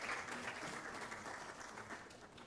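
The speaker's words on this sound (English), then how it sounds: "Let's give them another loud round of applause." An audience at a waste management conference breaks into applause, a dense steady patter of many hands clapping that holds at an even, moderate level throughout.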